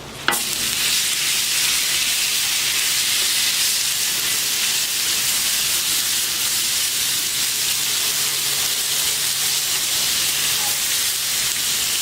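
Sirloin strips for fajitas sizzle loudly on a 36 inch Blackstone griddle, a dense, steady frying hiss that starts abruptly and holds unbroken and close, with no one speaking.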